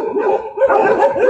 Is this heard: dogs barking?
yes